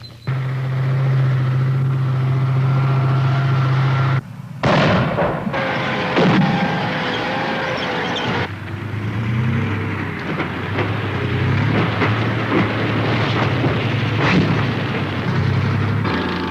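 Soviet mine-clearing tanks advance in a loud, continuous mass of heavy engine rumble and rolling mechanical noise, with a steady low drone, a brief dropout, then dense clanking and blasts layered over the roar.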